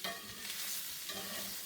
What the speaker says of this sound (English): Keep it stirring a little bit here and there